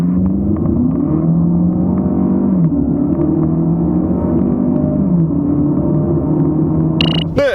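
A Chevrolet Malibu turbo (2.0 or 1.5 turbo) pulls away hard from a standstill, its engine rumbling and revving steadily with audible gear-change dips, loud and close throughout, ending in a brief high whine.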